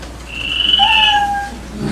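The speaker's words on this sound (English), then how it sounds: "You know your time's up when you hear the sound of a kitty." A single cat meow sound effect, used as a time-up signal on a comedy podcast, cries out clearly and alone in a drawn-out, slightly wavering call lasting about a second.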